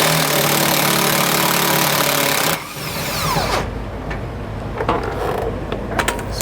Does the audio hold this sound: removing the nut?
yes